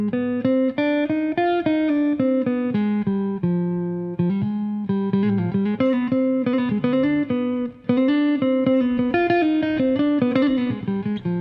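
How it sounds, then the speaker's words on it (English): Solo jazz guitar plays a long, flowing run through the fourth mode of the melodic minor scale, many quick clean notes rising and falling continuously, close and without any voices. "the fourth degree of the melodic minor scale is kind of a weird scale."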